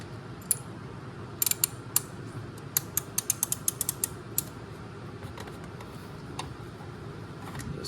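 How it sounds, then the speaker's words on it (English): Hose clamp pliers working a spring hose clamp on a VW/Audi 2.0 TSI engine, giving a quick run of sharp metallic creaks and ratchet-like clicks in a close cluster, then trailing off to scattered faint ticks over low room noise. "I love these hose clamp pliers"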